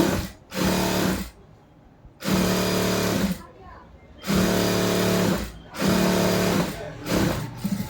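Sewing machine stitching a churidar top, running in three loud bursts of rapid whirring with short pauses between them, close up, alone without talk.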